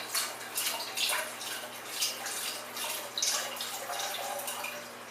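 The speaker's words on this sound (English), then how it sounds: "once you have all your juices and you've taken off the fat, now you can just pour it into your prepared roux." Turkey pan juices pour into a prepared roux for gravy, giving a soft, continuous splashing trickle with gentle surges over a low steady hum, close and fairly quiet with no voices.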